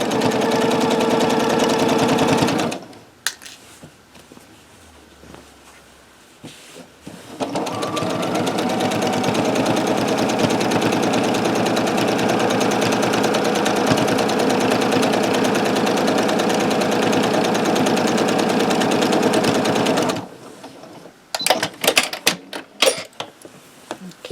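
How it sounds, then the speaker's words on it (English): A sewing machine stitches down the edge of a large minky quilt, running in one long, steady, loud mechanical burst, with short stop-start bursts at the beginning and end and quiet pauses between them. "I'm going to just sew down this part of the edge"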